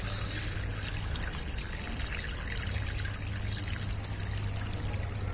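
Water poured steadily into a potted lemon plant, a constant soft trickling pour that runs without pause, moderately quiet and close, with no voices.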